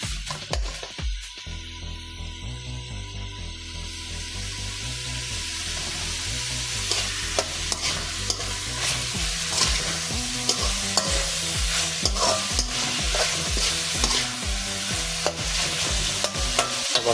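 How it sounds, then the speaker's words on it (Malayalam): Sliced onions sautéing in a pan for a cauliflower dish, a bright steady sizzle with rhythmic spoon strokes against the pan, close up and growing busier after a quiet start. "ഇപ്പോൾ സവാളയൊക്കെ ഒന്ന് ജസ്റ്റ് ഒന്ന് വാടി വരട്ടെ."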